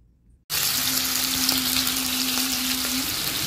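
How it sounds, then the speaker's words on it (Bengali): Hilsa fish frying in oil, a loud, dense sizzle that starts abruptly after a brief quiet moment and then holds steady and close throughout. "ইলিশ মাছ ভাজা হচ্ছে।"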